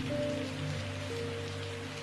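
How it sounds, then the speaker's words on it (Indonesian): Rain falls on a balcony railing in a steady, soft hiss of drops, continuous and even with no distinct individual hits, under faint sustained background tones. "Aruna menatap rintik hujan yang jatuh di pagar balkon."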